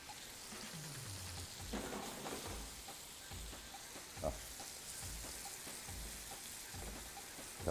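Onions fry in a pan for a minced-meat moussaka, a steady close sizzle with occasional scraping stirs and light pops throughout.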